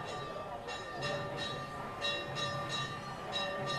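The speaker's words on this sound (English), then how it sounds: "You can hear the gong right now." A temple gong rings out in repeated, evenly spaced metallic strikes over a sustained shimmering tone during a Ganesh puja at a crowded Ganesh temple in Connaught Place, Delhi.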